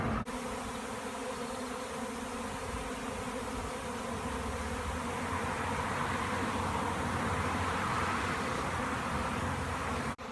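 A swarm of around 30,000 bees clustered in a tree produces a dense, continuous buzzing drone, steady and loud throughout with no voices.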